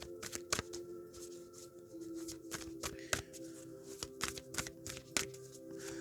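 Tarot cards are shuffled by hand in quick, crisp bursts of riffling and tapping, close up and fairly quiet, with no talking.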